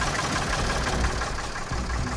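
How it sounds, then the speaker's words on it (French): A tractor engine running near a village, a steady low, rough mechanical rumble with a faint knocking pulse throughout, close and moderately loud with no voices. "Ah, donc Walid va conduire un tracteur"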